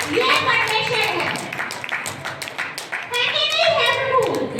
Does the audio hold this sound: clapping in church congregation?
yes